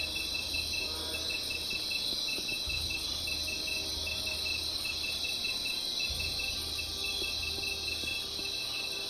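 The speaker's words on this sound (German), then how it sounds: "So, und die Grillen." Dense, continuous cricket chirping fills a nighttime scene in a Gothic 2 mod video game, a steady high-pitched trill that stays constant and fairly loud throughout, with a low ambient hum beneath and no speech.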